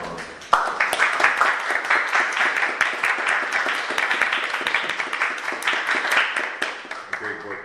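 An audience at a book event applauds the author Sean Thor Conroe, a small crowd's clapping starting sharply and continuing as distinct, crisp claps that swell and thin out toward the close.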